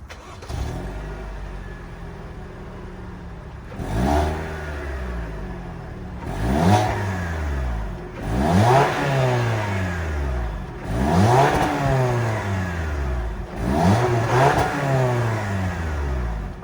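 A 2022 Toyota RAV4 XLE's 2.5-liter direct-injection four-cylinder starts and then revs in five or six distinct throttle blips, each climbing and falling back to idle, loud and close with no talking.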